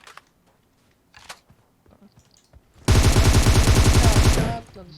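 Automatic gunfire from PUBG Mobile erupts as one loud, rapid sustained burst of shots lasting well over a second, after a stretch of quiet game noise and scattered soft talk.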